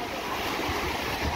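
Sea waves wash onto a Konkan beach in a continuous, loud, broadband rush, with wind noise mixed in.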